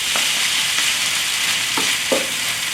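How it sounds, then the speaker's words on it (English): Shrimp and scrambled egg stir-fry for pad thai in a hot pan, a loud continuous sizzle with a few sharp scrapes and clacks of a utensil stirring through the mixture. "Hey, we're gonna scramble here. Scramble, scramble! Still running, mix it in!"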